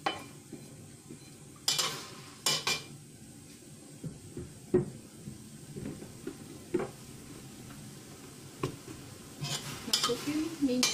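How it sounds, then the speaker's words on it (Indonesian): Shallots and garlic sautéing in a pan for a mushroom dish, a faint low sizzle broken by frequent clinks and scrapes of a utensil against the pan, with some kitchen clatter and quiet background voices. "bawang merah ditumis ya"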